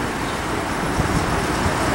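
A car goes by on the road, a steady, fairly loud rumble of traffic that swells slightly midway, with no talking over it.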